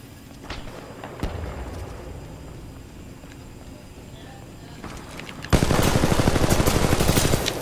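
SMG fire from Titanfall 2 bursts out loud and rapid in the final two seconds, following quieter in-game ambience with scattered faint shots and clatter.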